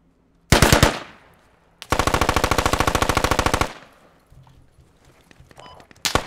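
Automatic machine gun fire in the Squad video game: a short burst, a pause, then a long sustained rapid-fire burst of evenly spaced shots, loud and close, followed by quieter scattered battlefield noise and another shot at the end.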